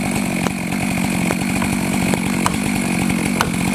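A chainsaw engine roars steadily and loudly while cutting a tree at a lumberjack competition, with a continuous buzzing drone and occasional sharp ticks of wood chips flying.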